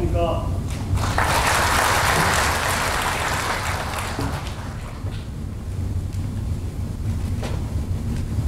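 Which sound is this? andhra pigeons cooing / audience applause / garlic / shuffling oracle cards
audience applause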